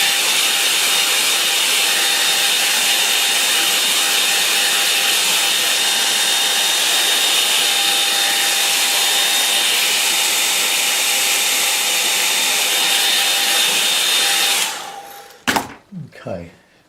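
A hair dryer blows steadily on a watercolour painting, a loud continuous whirring hiss with a faint whine that cuts off near the end, followed by a few handling knocks.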